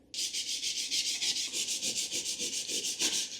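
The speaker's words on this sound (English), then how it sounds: "Now I'm just using the other sandpaper to smooth it out a little bit." Sandpaper rubbing back and forth over a repair patch on a cracked bathtub, a steady run of close, rhythmic scratchy strokes with no talking.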